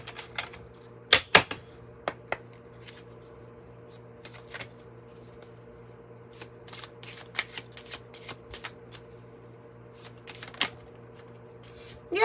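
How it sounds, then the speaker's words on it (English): Oracle cards are shuffled and pulled from the deck in a quiet room, with a few crisp riffling bursts and scattered soft flicks and taps at close range, while low steady hum sits underneath. "I'm going to pull an Archangel Raphael card for you too"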